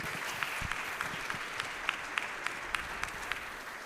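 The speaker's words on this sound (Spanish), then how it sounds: "How many can applaud for the Lord this morning?" A church congregation applauds through a morning worship service, a steady, dense wash of clapping hands with sharper individual claps popping out, filling the room without pause.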